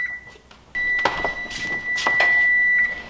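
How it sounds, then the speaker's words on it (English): An electronic oven timer in a kitchen is being set: a steady high beep sounds, cuts off, and then returns, with a few short clicks and key presses around it. No one speaks. "I'm gonna set my timer for 40 minutes."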